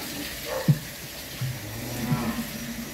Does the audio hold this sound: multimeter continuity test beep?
no